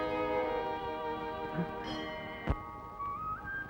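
A temple bell rings with a long, sustained, shimmering tone that slowly fades, and a sharp knock sounds partway through.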